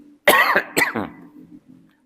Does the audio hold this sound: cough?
yes